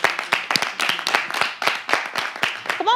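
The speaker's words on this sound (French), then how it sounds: "applaudissez pour elle, pour moi quand même" Audience clapping for Miss Universe Togo at a live show, a loose crowd of hands close by with uneven bursts that swell and dip, and a brief voice rising near the end.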